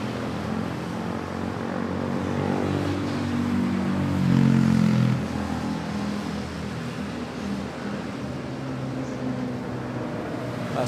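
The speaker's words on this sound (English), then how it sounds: "now we have a Philippine Airlines 320 arriving from CBO" A Philippine Airlines Airbus A320 airliner arriving at Manila airport, a steady loud jet roar that builds to a peak around the middle and then holds as it passes close by.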